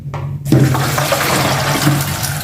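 Soaked soybeans for tempeh are poured out to drain, a loud close rush of water splashing through a strainer into a basin, continuous and unbroken.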